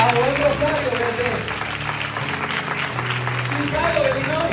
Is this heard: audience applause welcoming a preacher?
yes